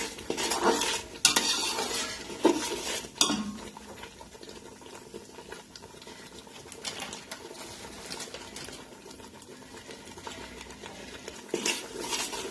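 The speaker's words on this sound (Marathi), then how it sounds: "मिश्रण चांगलं हलवायचं खाली परतून देऊ नका" Spiced mixed vegetable bhaji being stirred in a pan, a few clattering spoon-on-pan strikes early and late over a low background of soft cooking sounds, no talking.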